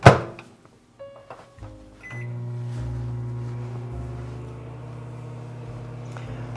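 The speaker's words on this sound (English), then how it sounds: "And now we're going to microwave this until it all melts." A microwave oven starts up after a few clicks and beeps and then hums steadily while melting chocolate chips for fudge, fairly quiet and close, with no talking.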